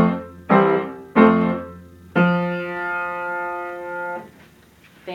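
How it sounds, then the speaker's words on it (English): Four sustained French horn tones played one after another, a single C pitch repeated, each note starting firmly, the last held longest before fading, close and clear with no talking. "A C is fingered on the French horn with no fingers at all."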